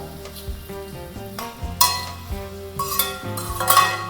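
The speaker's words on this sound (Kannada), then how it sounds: "ಈಗ ಇದನ್ನು ಚೆನ್ನಾಗಿ ಫ್ರೈ ಮಾಡ್ಕೊಳ್ಳೋಣ." Sliced onions fry in oil and butter in a pan for a restaurant-style paneer butter masala, with scraping stir strokes and metallic clinks of a utensil against the pot standing out over a steady sizzle, close and fairly loud, with no talk.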